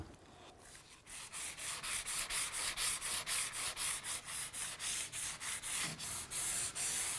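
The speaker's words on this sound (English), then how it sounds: "we're just going around with a piece of 220 sandpaper" Sheet of 220-grit sandpaper rubbed back and forth over sealed oak, a close, steady rasping with regular rhythmic strokes about three per second, fairly quiet, no voices.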